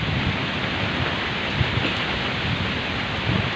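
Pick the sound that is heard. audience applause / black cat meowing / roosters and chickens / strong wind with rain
strong wind with rain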